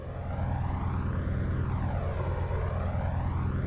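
Steady droning roar of the FlyingIron P-38 Lightning's twin piston engines under added throttle in Microsoft Flight Simulator 2024, close and continuous, with slowly wavering pitch and no speech.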